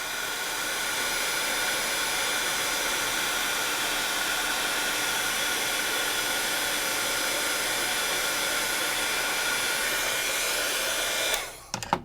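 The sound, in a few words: heat tool melting embossing powder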